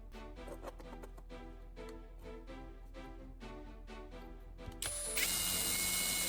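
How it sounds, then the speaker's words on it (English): A screw hole is drilled again for a door hinge in repaired, repainted wood: a rapid, even clicking ratchet-like rhythm, then a sudden loud, whirring buzz of the drill near the end. "When the paint has dried, drill the screw hole again."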